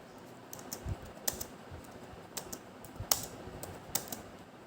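Quiet, close typing on a computer keyboard while writing in MS Word, irregular soft key clicks with a few sharper taps over a faint room hum.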